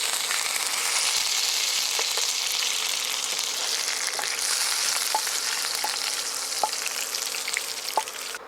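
Curry leaves fry in a hot-oil tempering for a banana stem yogurt chutney, a loud, continuous close-up sizzle dotted with small pops and crackles throughout.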